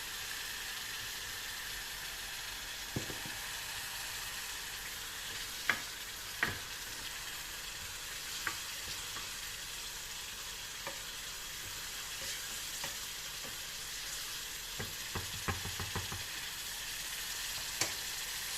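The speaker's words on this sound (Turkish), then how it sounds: "soğan ve biberimizi ekleyelim. Birlikte kavuralım." Steady frying sizzle from a pan of chopped onion and green chili peppers sautéing, with occasional clinks and scraping taps of a utensil stirring, no voices.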